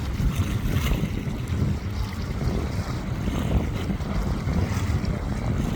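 Container ship CMA CGM Tancredi with tugs in the Port of Melbourne at Williamstown near the Westgate Bridge, heard as a steady low rumble of engines and water under continuous wind buffeting the microphone, with no talk.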